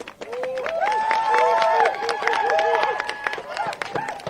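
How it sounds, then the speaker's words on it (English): Crowd applause and cheering at an outdoor justice march rally in a park, a broad sustained wash of clapping with voices and tonal calls rising over it, loud and close throughout. "Give yourselves a round of applause."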